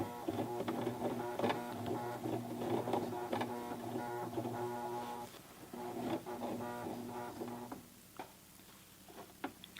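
A Toyota FSG325 sewing machine back-stitches a jeans hem in rapid mechanical bursts, near and steady, then slows and stops toward the end, with no talking.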